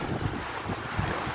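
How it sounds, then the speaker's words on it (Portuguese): Steady wind and breaking surf on Riacho Doce beach, a fishing village where jangada rafts sit anchored on the sand. A constant, noisy roar of wind buffeting the microphone with low, rolling wave wash underneath and no voices. "Aqui são as jangadas, onde elas ficam aqui ancoradas na praia"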